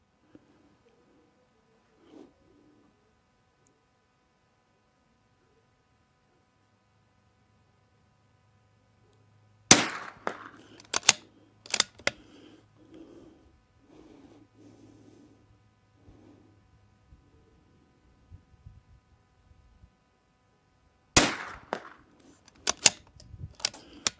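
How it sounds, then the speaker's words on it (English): Rimfire rifle shots from a Vudoo 360 fired outdoors as a five-round group: sharp, loud cracks in two clusters, several quick reports in each, separated by quiet stretches with faint handling noise. "Second 5-round group against Womfat and that Vudoo 360 he has"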